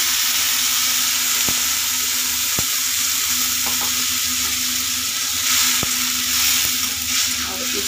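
Ground dry masala sizzles steadily in a hot pan for aloo dum, a dense broadband hiss running throughout with a few sharp clicks of stirring, no talk over it.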